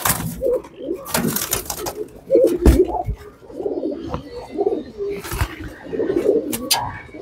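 Pigeons coo repeatedly up close, with bursts of wing flapping and scuffling among them at a pigeon tournament, while people talk nearby.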